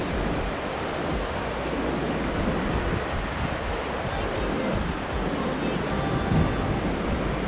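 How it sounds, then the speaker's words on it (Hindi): Kanjoti waterfall roars as a broad, steady rush of falling water, continuous and fairly loud with wind noise mixed in and faint voices nearby. "काफ़ी खूबसूरत झरना है।"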